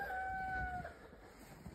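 A rooster in a farm flock crows faintly and from a distance, one thin drawn-out call lasting under a second before fading into quiet outdoor background.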